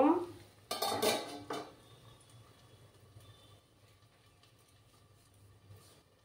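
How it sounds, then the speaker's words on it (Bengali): A metal lid clatters onto a pan while vegetable paratha cooks over low gas heat, giving a brief clanking burst near the start before a quiet kitchen background. "এবার আমি এটাকে ঢাকা দিয়ে রাখবো"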